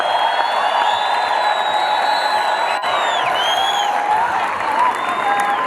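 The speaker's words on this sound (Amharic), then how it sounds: "ጩኸት፣ እልልታ፣ ፉጨት ለእግዚአብሔር" A church congregation at a worship service shouts, ululates and whistles in praise: a dense, loud, continuous crowd roar with high trilling ululation and whistles layered on top.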